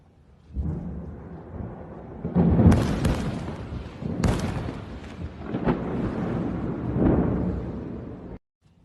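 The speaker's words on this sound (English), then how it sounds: "we again hear these multiple bangs, bang, bang, bang, like 2 or 3 hits at a time." Several heavy booms from airstrikes in southern Lebanon, coming in rough clusters over a sustained low rumble, with sharp loud bursts around the middle of the clip and no talk.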